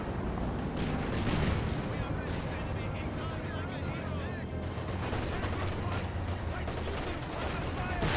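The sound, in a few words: grenade assault and artillery fire in video game Company of Heroes 2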